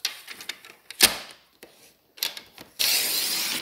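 Paper trimmer slicing a strip of hand-stamped designer paper down to card length, with a few close scraping and clicking strokes, a bright rasping cut, then a sustained rushing slide near the end.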